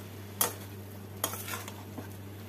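Lau shak (bottle gourd greens) with coconut and chana dal being stirred in a frying pan, a faint steady sizzle broken by a few soft scraping strokes of the spatula, with no voices.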